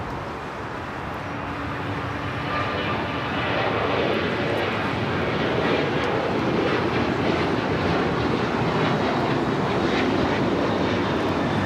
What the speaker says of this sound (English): This is American Airlines 1446 taking off to Columbus on the 737-800.